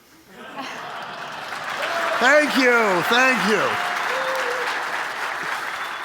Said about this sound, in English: I told Dean the applause would go longer.